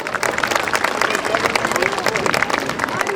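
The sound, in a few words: audience applause at carnival event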